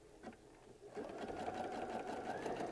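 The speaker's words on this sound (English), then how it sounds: "I'm going to come down one way, and then I'm going to back stitch it up again a few times." A sewing machine running zigzag stitches and back stitches through fabric, a steady close mechanical whir that starts softly and settles into continuous sewing.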